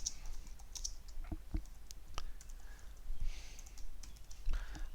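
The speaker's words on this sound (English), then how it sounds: "So you might just simply type on the end" Fingers type on a computer keyboard with quiet, uneven clicking keystrokes, some in quick clusters and others spaced apart, close by over a faint low background hum.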